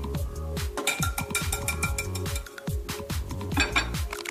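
Hard-boiled egg shell cracking inside an Egg Stractor kitchen peeler, a rapid series of close, crisp clicks and crunches with clinking plastic, loud and steady with no talking.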